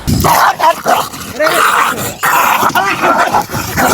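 Street dogs fight at close range, loud and chaotic, with snarling growls, sharp yips and barks coming in rapid overlapping bursts.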